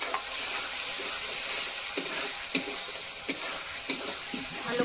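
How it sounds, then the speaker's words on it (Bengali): Spice paste with chopped tomato frying in a pan, continuous bright sizzle close by with occasional soft knocks and scrapes of stirring, no voices. "ভালো করে এবার মশলাটাকে কষিয়ে নিতে হবে যতক্ষণ মশলা থেকে পুরো তেল না বেরিয়ে আসে।"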